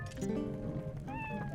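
A cat in the video game Twilight Princess HD meows with a drawn-out, rising call over a steady musical background, fairly close and clear.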